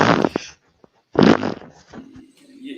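A loud, rasping fart erupts in two bursts separated by a short silence, close and dry, with a faint low trailing sound afterward.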